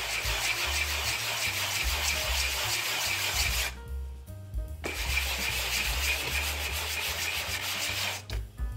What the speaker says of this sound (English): let's give this a little bit of a sanding